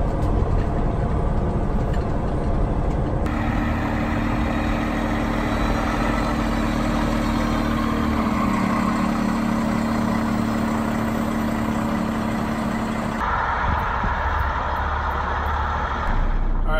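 A custom-ordered 2021 Peterbilt 389 truck idles steadily up close, its engine giving a loud, continuous rumble with no talk.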